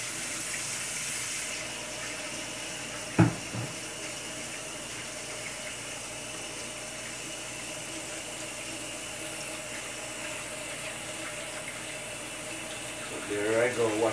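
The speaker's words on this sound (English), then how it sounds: "I'm going to wash my hands." A kitchen sink tap runs steadily in a catering kitchen while hands are washed, a continuous hiss of water with a brief splash or clunk early on and more agitated splashing near the end.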